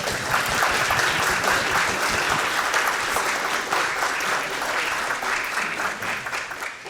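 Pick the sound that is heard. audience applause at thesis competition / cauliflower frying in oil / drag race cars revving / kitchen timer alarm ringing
audience applause at thesis competition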